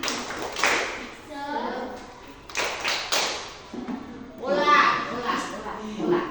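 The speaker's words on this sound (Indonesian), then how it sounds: "Tepuk semangat." A class of standing pupils performs the tepuk semangat clapping chant: rhythmic bursts of claps and taps come in three loud groups, with children's voices chanting along between quieter pauses.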